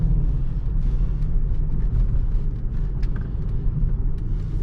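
BMW X5 E53 4.4i 286 HP V8 with 4.6 IS cams and intake, remapped and running rich, rumbles steadily at low RPM, with a few brief popping backfires breaking through the dense engine drone.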